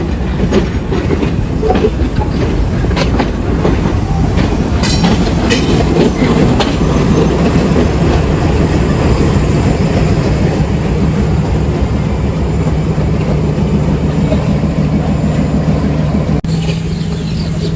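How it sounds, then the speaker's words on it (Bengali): A shuttle train running between Poradah and Goalanda Ghat passes at Poradah junction railway station in Kushtia. It makes a loud, steady rumble with rhythmic clickety-clack from the wheels and faint squeals, and it carries on without a break for the whole clip. "সামনে যে ট্রেনটি দেখতে পাচ্ছেন সেটি হচ্ছে শাটল ট্রেন।"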